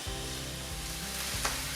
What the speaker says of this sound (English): So the onions are starting to sizzle